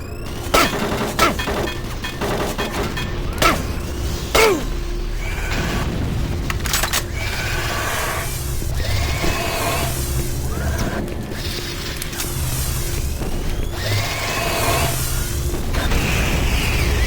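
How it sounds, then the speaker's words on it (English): Repeated booming grenade explosions in the shooter game Doom 3, several sharp blasts early on followed by dense, continuous rumbling combat noise and mechanical clatter throughout. "I can use a grenade"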